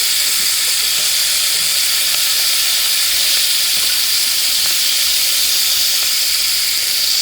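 Pork chops fry in a pan with onion and meat grease, a loud, steady, close sizzle that hisses on without a break and with no talk.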